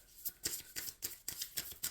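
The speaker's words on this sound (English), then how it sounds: "Shuffling for the concluding message." Tarot cards shuffled close up in quick repeated riffles and slaps, about seven crisp bursts in two seconds, fairly quiet with no talking.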